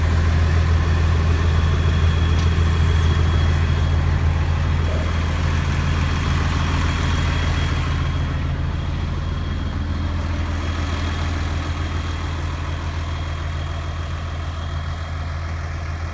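A 2000 Case 1150H crawler dozer's diesel engine running while the machine backs up, a loud, steady low-pitched rumble heard close by, with a faint whine and no voices.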